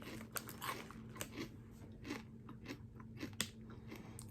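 Crisp bites into a sour cream and onion protein puff, a handful of sharp crunches scattered irregularly over about four seconds, close and fairly quiet, with softer chewing between them and no talking.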